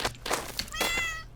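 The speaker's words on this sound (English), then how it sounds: "so that's the cat sound" A cat meow sound effect from a Bitsy video game, a single clear, fairly loud tonal meow rising and fading after a few short thumps and clicks.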